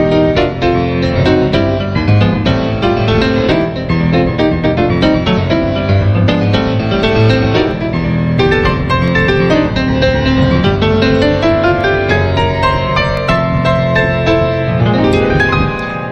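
Busy keyboard playing with syncopated, funky rhythms and rippling arpeggiated runs, steady and full throughout, no voices.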